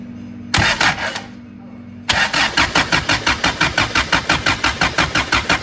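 A Toyota 22RE engine cranking on a cold start: a brief burst, a pause, then a loud, rapid, even rhythm of starter-motor cranking pulses that never catches, close by.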